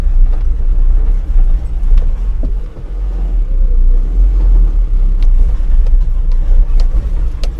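A pickup truck drives along a coffee estate track, its engine and tires producing a loud, steady low rumble with bumps and knocks from the rough ground, and no talk.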